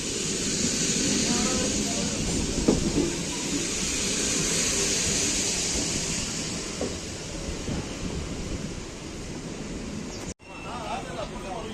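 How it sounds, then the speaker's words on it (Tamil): An old conventional MEMU express train running through the Walayar ghat between Kanjikode and Madhukarai, a loud steady rumble and wind roar heard from onboard, with a sharp brief dropout near the end and a voice speaking over it. "இன்னைக்கு இந்த வாளையார் காட் ஜேர்னியை நம்ம இந்த மெமோ எக்ஸ்பிரஸில் தான் பண்ண போகிறோம்."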